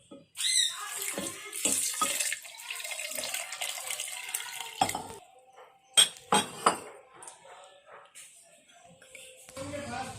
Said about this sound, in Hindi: ये पानी शामिल करेंगे हम लोग।